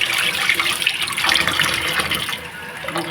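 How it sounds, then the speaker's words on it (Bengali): Water gurgles and washes steadily in a kitchen sink basin clogged with food scraps as it drains slowly, a close, continuous liquid rush that softens slightly toward the end. "জল জমে গেছে, বেরোবে আস্তে আস্তে"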